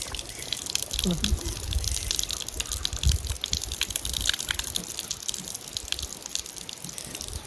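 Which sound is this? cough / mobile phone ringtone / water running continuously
water running continuously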